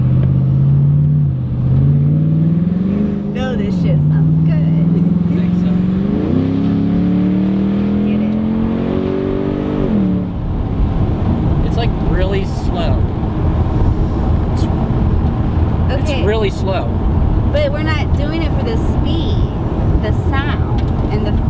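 A Ford Mustang driving on narrow country roads, its engine droning and rising in pitch as it accelerates, then a rougher, louder stretch with wind buffeting, while people talk inside the car throughout.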